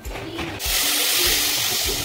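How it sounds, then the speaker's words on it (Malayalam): Water is poured into a pan of roasting semiya for upma, a sudden rushing splash that follows a quieter moment and holds as a loud, steady gush close by. "അതിനകത്ത് കുറച്ച് വെള്ളം ഒഴിച്ച് കൊടുക്കണം"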